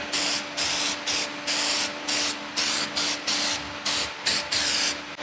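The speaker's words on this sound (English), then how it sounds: "We'll put some copper coat on the head gasket because that's what we do." Copper coat gasket sealant sprayed from an aerosol can onto a head gasket during an engine overhaul on a damaged Jeep LJ, heard as about eleven short, loud hissing bursts in a steady rhythm, close up with no voices.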